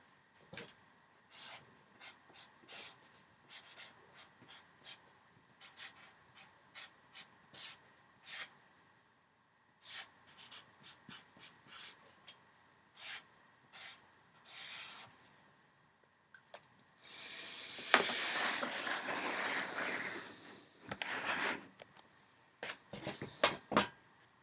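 Chalk or marker scratching and tapping out logic formulas on a board in short, quiet bursts, closing with a longer rubbing stroke, heard alone in a hushed room.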